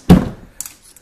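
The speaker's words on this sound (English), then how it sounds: "And then if you close the lid," The lid of a hard-shell case for a DJI Phantom 2 Vision camera drone shuts with a single loud, close thunk, followed by a couple of faint clicks from the latches or hinges.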